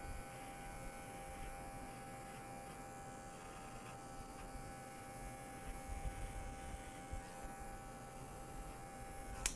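An electric hair clipper with a half guard cuts a fade, giving a steady, faint buzzing hum that holds evenly throughout with a few small bumps near the end.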